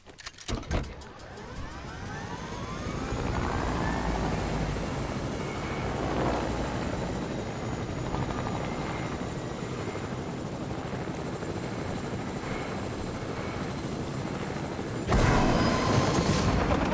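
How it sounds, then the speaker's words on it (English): A helicopter in the Fortnite video game whirs and drones steadily for most of the stretch, loud and close, rising a little louder near the end with no talk over it. "I'm just taking my heli and getting out of here."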